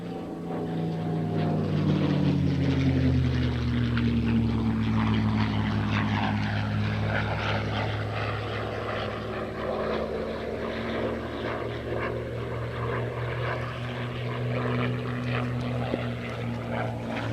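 A P-51 Mustang's Rolls-Royce Merlin V12 piston engine roars past, its pitch sliding downward as it passes, then holds a steady distant drone.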